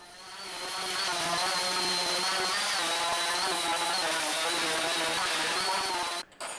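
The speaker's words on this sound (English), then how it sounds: "And now I am sanding the entire shelf." Steady whine of a power sander working across a wooden knick-knack shelf, continuous and close with a droning hum, cutting off abruptly near the end.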